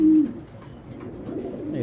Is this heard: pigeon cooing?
yes